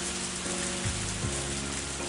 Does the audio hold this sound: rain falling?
yes